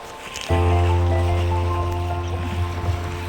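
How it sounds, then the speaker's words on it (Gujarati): Water washing in waves toward the shore of the Dholidhaja Dam reservoir in Surendranagar, a steady close rush with a low sustained drone starting after a half-second of quieter ambience. "દરિયાના મોજા ઉછળતા એવું લાગી રહ્યું છે. પાણી ધીરે ધીરે આ બાજુ આવી રહ્યું છે."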